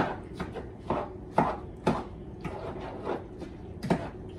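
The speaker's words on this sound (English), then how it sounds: "Stirring it up really good, really well" Sweet and salty corn with butter, sugar and black pepper being stirred in a pan, a series of about eight scraping, knocking strokes in an uneven rhythm, close and clear with no voices.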